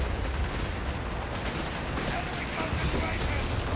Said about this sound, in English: Another Nebel coming in.